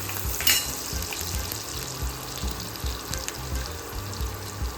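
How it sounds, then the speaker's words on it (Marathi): Chopped onion sautés in a pan for kala chana masala, a steady frying sizzle with occasional stirring and clinks, close and continuous. "छान असं मिक्स करून घ्यायचं आहे तर कांदा परतून घ्यायचा आहे"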